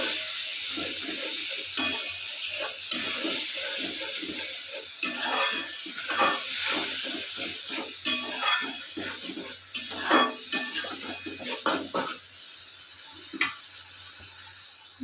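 Turmeric and spices being stir-fried in oil for a spicy sea-fish curry: a soft sizzle under repeated scraping and clinking of a spatula against the pan, irregular strokes close by, no talking.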